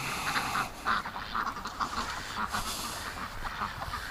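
Backyard ducks quack in a rapid, repeated series at moderate distance, the calls overlapping with some soft ambient noise.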